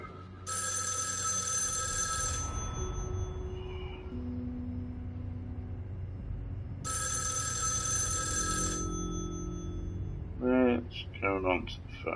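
In the video game Erica, a telephone rings in two long electronic bursts separated by a pause, heard over a steady low hum, with a brief voice afterward.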